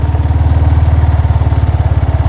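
A motorcycle engine in first gear on a half-engaged clutch runs close and loud, with a steady rapid low thumping pulse throughout and no voices.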